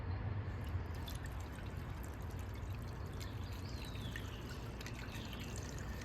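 Distilled water pouring from a gallon can into the coolant system of a 2002 Land Rover Discovery 2, a steady trickling and gurgling stream with occasional drips, close and fairly quiet throughout.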